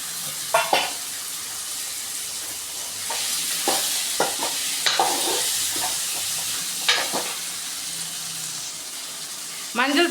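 Pidikarunai (elephant yam) sautéed in a pan for kuzhambu, giving a continuous hiss of frying broken by repeated scraping and clinking strokes of a spoon, heard up close.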